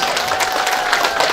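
A crowd of villagers claps steadily at an outdoor election campaign rally in Air Seruk, the applause dense and continuous throughout.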